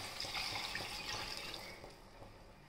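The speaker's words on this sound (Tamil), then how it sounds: "இப்போ இதில் தண்ணி சேர்த்துக்கலாம்" Steady rushing and splashing of water poured into a pot of rice for peas pulao, close by and fairly soft, lasting a few seconds without any talk.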